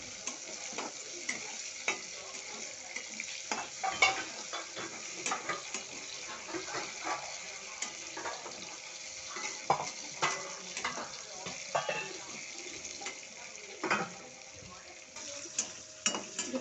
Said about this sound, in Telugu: కొంచెం ఇది బ్రౌనిష్ కలర్ వచ్చే వరకు ఫ్రై చేసేసి